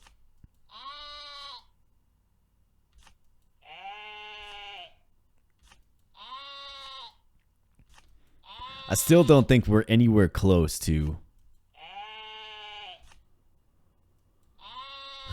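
Repeated sheep bleats from the video game Terracards sound at regular intervals, clear and close, with someone talking briefly in the middle between them.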